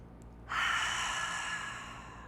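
One deep cleansing breath during a gentle yoga session for achy joints, a long airy exhale that starts abruptly and slowly fades, close and clear with no talking.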